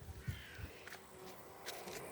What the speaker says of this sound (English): Did you see the crows?